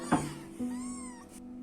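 A rescued street cat being treated for an eye problem gives a short, faint meow with a rising and falling pitch, after a brief bump of handling noise, close by and quiet.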